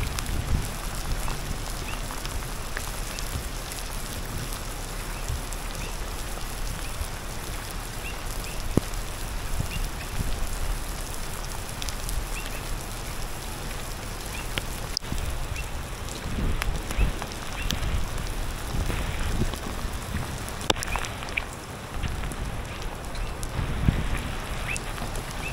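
A brief hail storm in Tweed Heads South, a dense steady patter of hailstones striking surfaces outdoors, with wind noise and a few sharper impacts throughout.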